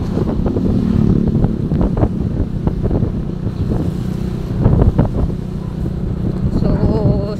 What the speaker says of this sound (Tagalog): sa likod kasi kapag sa shoulder po ni Yayo, medyo malakas po ang hangin.